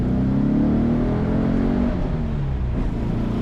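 A collector car accelerates hard, its engine roaring loudly and steadily from inside the cabin with the pitch climbing, then easing after a shift, with no talking.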